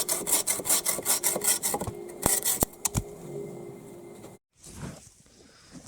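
A wooden pole has its top lopped off for a bushcraft pot hanger, giving a burst of rhythmic rasping saw strokes, then a few sharp cracks as the piece gives way, followed by a brief silence and some rustling handling.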